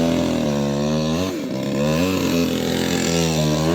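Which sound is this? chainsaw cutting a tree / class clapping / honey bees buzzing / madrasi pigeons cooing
chainsaw cutting a tree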